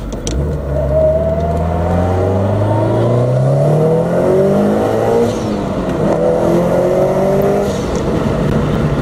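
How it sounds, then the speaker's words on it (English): A Subaru GR WRX STI with a Milltek catback exhaust accelerates hard, its loud engine note climbing through gears with a short shift break, close and continuous throughout with no talking. "there were places that would have reflected the sound of that exhaust"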